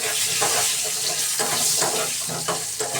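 Long-cut potato slices fry in leftover fish-frying oil with cumin seeds, a loud continuous sizzle with occasional stirring scrapes close by.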